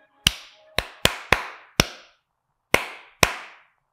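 Seven sharp hand claps, two quick ones then a few spaced apart and a final slower pair, each crisp and close, with no talking over them.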